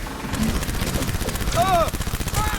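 Rapid automatic gunfire during a firefight in the video game Cyberpunk 2077, a loud continuous rattle of shots with whining tonal effects layered on top.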